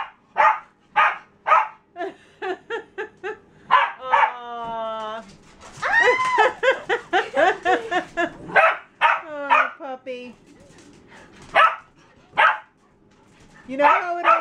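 Close, excited dog barking in rapid bursts, mixed with drawn-out howls and whimpering yips, continuing on and off throughout.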